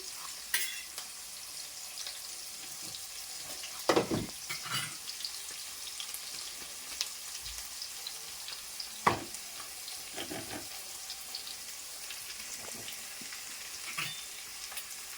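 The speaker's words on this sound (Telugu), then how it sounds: "ఆనియన్స్ ఫాస్ట్గా వేగాలంటే కొంచెం సాల్ట్ వేసామనుకో ఫాస్ట్గా వేగుతాయి" Chopped onions sizzle steadily in a pan with a little salt, a soft, continuous frying hiss broken by occasional louder clinks and scrapes of stirring.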